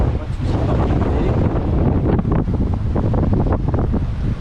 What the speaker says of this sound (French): Il y a de la houle, hein, beaucoup de houle, des grosses vagues.